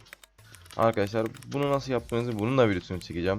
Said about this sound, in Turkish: gördüğünüz gibi arkadan klavye sesi geliyor